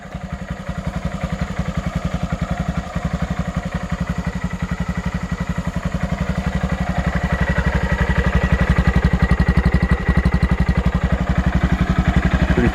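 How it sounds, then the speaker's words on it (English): Honda Monkey motorcycle idling on its stock exhaust, a steady, rapid low putter that stays fairly quiet and even throughout, with a slight rise in level partway through and no talking. "fire up the Monkey"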